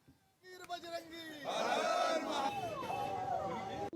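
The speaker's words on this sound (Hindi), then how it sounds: "मेले में श्रद्धालुओं की भारी भीड़ उमड़ रही है" Devotees crowd a Mahashivratri fair, a dense swell of shouting and chanting voices that rises sharply and stays loud and steady through the rest.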